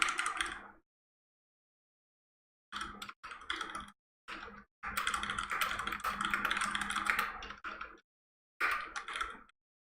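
Typing on a PlayStation keyboard while sending invitations, with quick bursts of close, clicky key taps separated by silent pauses and one longer sustained run of rapid keystrokes.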